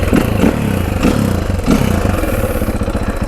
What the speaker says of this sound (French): On va démarrer ça au kick